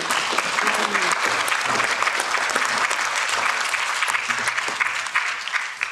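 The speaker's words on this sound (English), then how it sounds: "we need to give them a big applause before we start" An audience applauds in a hearing room at the European Parliament, with dense, steady clapping that holds for six seconds and a few murmured voices underneath.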